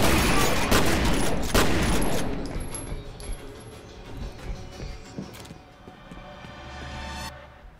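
Grenade blasts and gunfire in the FEAR first-person shooter, with loud, dense bursts early on that thin out into scattered mechanical clatter and fading rumble.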